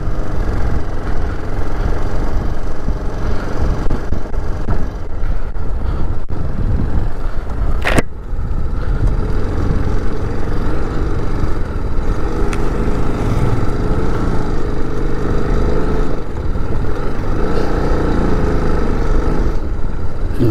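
A motorcycle rides on continuously with a loud, dense engine and road rumble and a grinding, rattling undertone from a noisy front wheel, close and steady throughout, with a brief sharp click partway through.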